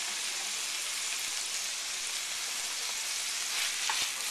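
Bacon and onions cooking down in a pan as the base for cream of celery soup give off a steady, close sizzle that holds evenly throughout with no talking.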